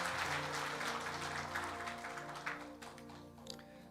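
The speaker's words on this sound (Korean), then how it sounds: "다시 한번 박수해 주시면 감사하겠습니다." A church congregation at a Sunday service bursts into applause that gradually thins and fades over a few seconds, with steady instrumental music sounding beneath the clapping.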